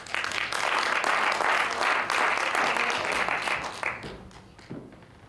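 A crowd at a local business award evening applauds as a guest is called up, a loud, full burst of clapping that holds for a few seconds and then thins and fades away.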